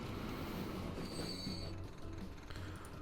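A train arrives in the Transport Fever video game, low rumbling wheels with thin metallic squeals and faint rhythmic clacks, steady and moderately quiet with no speech.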